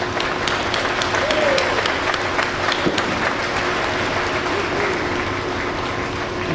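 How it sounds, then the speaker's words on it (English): Graduates and guests applaud at a university graduation ceremony, a steady roar of many hands clapping that holds evenly throughout, with a faint voice briefly audible beneath it. "Graduates, give yourselves a round of applause."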